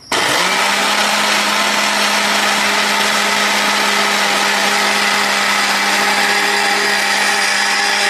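A mixer grinder blending pesarattu batter whirs at a loud, steady pitch, starting abruptly and running continuously for several seconds, with no talk.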